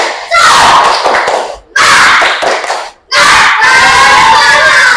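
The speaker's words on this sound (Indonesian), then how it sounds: "sebagai penyemangat kita tepuk semangat lagi ya" A classroom of pupils performs a 'tepuk semangat' clapping chant, three loud bursts of shouting and clapping in unison separated by short pauses, close and energetic.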